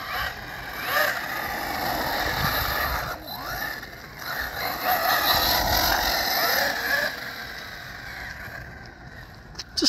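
An MT10e 1/10 scale RC car on 3S with a 4400 kV brushless motor runs nearby, giving a continuous whirring motor whine with a rising and falling pitch and gravelly rolling noise.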